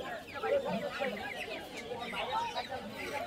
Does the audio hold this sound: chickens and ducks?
yes